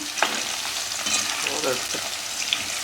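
Soya chilli frying with curry leaves in a pan, a steady soft sizzle with occasional stirring scrapes and small crackles, fairly quiet and close with no talk.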